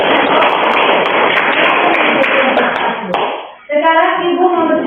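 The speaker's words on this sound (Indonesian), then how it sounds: "Kita tepuk tangan dulu." Schoolchildren in an Indonesian classroom clap their hands together in a loud, busy burst that stops abruptly, followed by a person talking.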